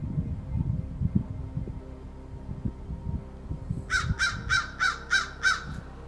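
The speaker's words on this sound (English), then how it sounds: "Crow's freaking me out." A crow caws six times in a quick, evenly spaced run near a cemetery, clear and moderately close, following a stretch of low rumbling noise.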